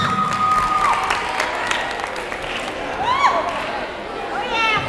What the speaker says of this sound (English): Come on, clap it up for him.